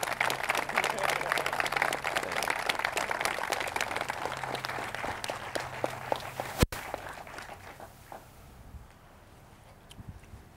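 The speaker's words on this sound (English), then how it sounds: "a round of applause for Dewey Hunter" Audience applause at a high school memorial service, a lively round of clapping that gradually fades and thins out into quiet room sound, with faint voices underneath.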